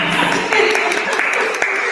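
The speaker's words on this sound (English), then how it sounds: "Please give a round of applause for her." A business event audience on luxury-brand PR and marketing breaks into continuous, fairly loud applause, a dense wash of many hands clapping for the whole moment.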